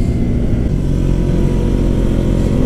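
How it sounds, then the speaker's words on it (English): A KTM Duke 125 motorcycle, a 2017 model on its stock exhaust, drones loudly and steadily as it rides past close by, a constant engine roar filling the whole moment. "There goes my bike."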